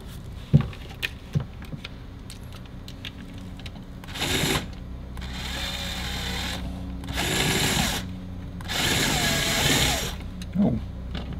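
Cordless drill fitted with a long bit in an extension, working inside a 2019-2025 Volkswagen Jetta during a speaker install: three sustained whirring bursts of a few seconds each, with handling clicks and knocks between them.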